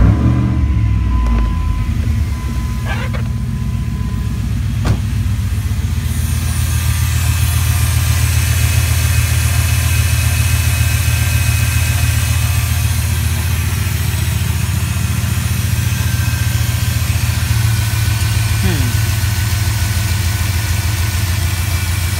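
A Dodge 4.7L engine idles steadily after an intake gasket replacement, a loud close low rumble that settles after a few seconds of startup roughness and holds evenly throughout.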